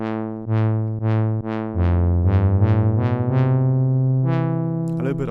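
A bright, buzzy synthesizer lead patch, oscillator 2 alone, plays a run of plucked notes in a steady rhythm, each fading quickly, with the pitch shifting across the phrase.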